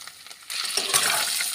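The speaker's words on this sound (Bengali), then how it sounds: "তারপর ফোড়ন দিয়ে দেব শুকনো লঙ্কা পাঁচ ফোড়ন" Dry red chillies and five-spice seeds hit hot oil in a kadai, starting with a faint rattle and then bursting into a loud, bright, continuous sizzle that carries on to the end.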